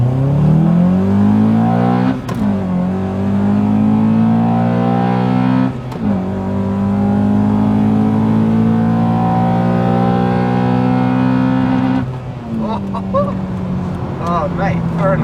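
Honda Accord Type S engine under hard acceleration, a loud rising drone climbing through gears with brief dips at each shift, heard from inside the car with people talking over it.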